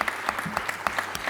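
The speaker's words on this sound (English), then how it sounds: "A round of applause." A small audience at an economics conference claps, the quiet, sparse applause coming in distinct individual claps rather than a dense roar.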